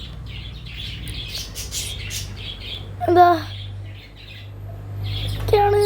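Small pet birds, among them a yellow one, give sharp chirps and squawks in short bursts over a low steady hum, and a person speaks briefly between the calls.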